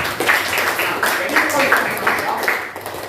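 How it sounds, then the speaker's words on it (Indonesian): Rapid, dense clapping from a group of students, sustained evenly for about three seconds as a chemistry classroom applauds. "Tepuk tangan untuk si Prince."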